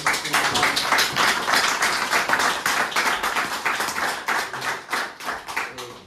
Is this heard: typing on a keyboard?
no